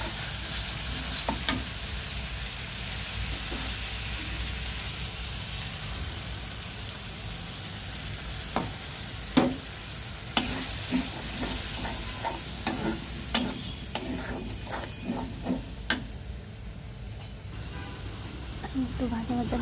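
Whole cardamom and cinnamon frying in oil in a pan make a soft, continuous sizzle broken by spoon scrapes and light clinks. A voice speaks over it at times.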